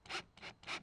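A waxed galvanized screw drives into a wooden board, three rhythmic rubbing, rasping bursts, each pulling the board tighter, close up and fairly quiet.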